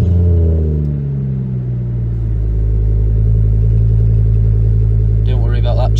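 A Ford Focus ST225 engine cranks and fires, then settles into a steady, loud idle with a deep rumble close by; a faint chirp from loose manifold bolts sits in the mix, and voices come in near the end.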